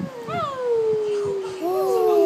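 A voice imitates a cat's meow, producing a drawn-out, wavering mew close to the microphone, followed by a shorter rising second meow.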